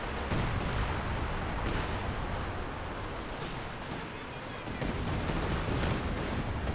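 Artillery barrage from Company of Heroes 2 on the 4v4 Essen Steelworks map: a dense, continuous roar of overlapping blasts and rumbling impacts that holds steady and loud throughout, with only a brief dip near the middle.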